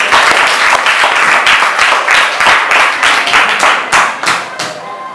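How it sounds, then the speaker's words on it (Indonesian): An audience at a school class evolution debate applauding, a dense, loud wash of many hands clapping continuously for several seconds before tapering slightly at the end. "Nah, beri tepuk tangan dulu dong."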